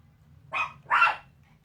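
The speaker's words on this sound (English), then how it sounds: "Excuse my little dog, Louie." A tiny dog weighing about two pounds gives two quick sharp barks, close and fairly loud, over a faint low background hum.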